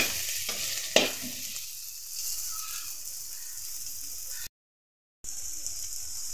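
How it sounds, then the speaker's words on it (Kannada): Chopped onions frying in a little hot oil in a pan while making chatli sukka, a steady sizzle with a few stirring scrapes, one sharp knock near the start and a brief silent gap before the hiss resumes. "ಈರುಳ್ಳಿ ಚೂರು ಫ್ರೈ ಆಯ್ಲಿ."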